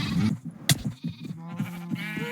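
Sheep in a farm pen in a video game, giving off a run of wavering bleats, some overlapping, fairly loud and close, with no voices.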